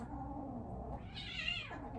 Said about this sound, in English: my cat is fighting